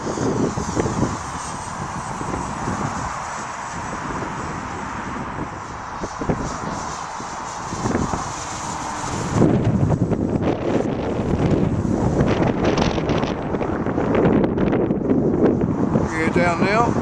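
Gusty wind buffets the microphone at Wisley Airfield on a windy day, a steady broadband roar that grows heavier and rougher in the second half, with people talking intermittently over it.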